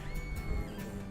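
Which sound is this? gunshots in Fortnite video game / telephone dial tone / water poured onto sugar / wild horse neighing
wild horse neighing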